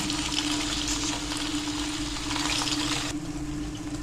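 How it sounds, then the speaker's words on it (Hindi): Steady, loud hissing sizzle as chicken goes into hot oil in a karahi for a Peshawari chicken karahi, a dense continuous crackle with a low hum underneath, easing slightly near the end. "अब हम इसमें चिकन डाल देंगे।"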